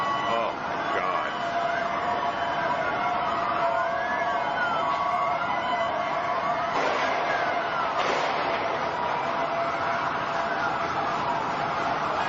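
Several wailing sirens overlap, sweeping up and down continuously under loud, busy street noise and voices.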